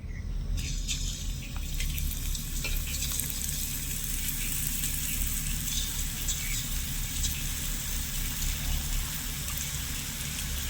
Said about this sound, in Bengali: তো বাদ বাকি বন্দিয়াগুলো ঠিক একইভাবে আমি ভেজে নেবো